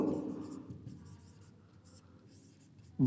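Close writing strokes on a board run steadily through the clip during a lesson on types of quadrilaterals. Faint scratchy marks sit over a low background murmur, and a brief louder thump comes at the very end.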